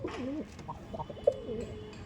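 Pigeons in a loft coo softly in a few short, throaty phrases, nearby but not loud, with no talking over them.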